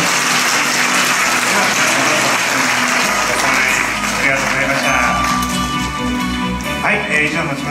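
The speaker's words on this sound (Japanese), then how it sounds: "改めてご登壇いただいた皆さんに盛大な拍手をお願いします" Sustained audience applause fills a symposium and awards ceremony hall, a dense, even wash of clapping with faint shouts, steady and loud throughout.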